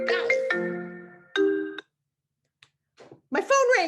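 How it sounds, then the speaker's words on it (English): A mobile phone ringtone plays a short melodic pattern of bright tones, loud and close, stopping abruptly partway through, with soft talk resuming right after. "my phone rang and you went away"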